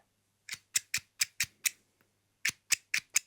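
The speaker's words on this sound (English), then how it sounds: "snip the pom-pom strand." Scissors snipping through a pom-pom strand in a quiet room, a close crisp run of six snips followed by a brief pause and four more, each cut short and sharp.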